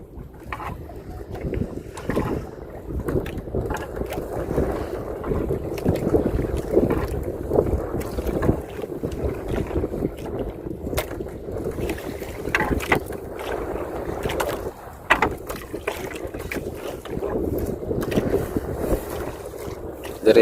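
Strong northeast monsoon wind buffets a small boat at sea, a continuous loud rushing roar against the microphone with water and hull noise beneath and a few brief gusty bumps, no talking.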